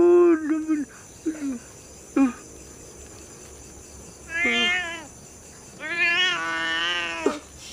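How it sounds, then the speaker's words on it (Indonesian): A cat meows repeatedly outdoors at night, with short cries first and then longer drawn-out wailing calls, loud and close over a steady chorus of crickets. "gua kira memedik, lu taunya kucing, bikin kaget aja."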